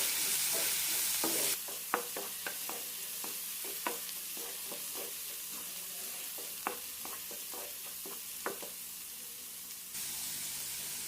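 Garlic, ginger and green chilli frying in oil in a pan for a potato curry, giving a soft continuous sizzle punctuated by irregular, close stirring clicks and scrapes.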